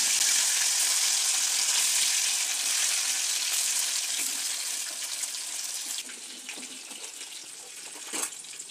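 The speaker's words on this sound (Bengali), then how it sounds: "মাছগুলিকে ততক্ষণ ধরে ভাজতে হবে যতক্ষণ না মাছের কালার গোল্ডেন ব্রাউন হয়ে যায়" Surmai fish pieces frying in hot oil in a pan, a steady dense sizzle that runs throughout, easing slightly toward the end with a few faint clinks, no voices.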